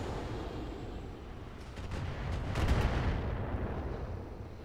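Mech weapons in the Roguetech battle game firing at a building, heard as a continuous rumbling barrage of distant booms and crackling impacts that swells in the middle.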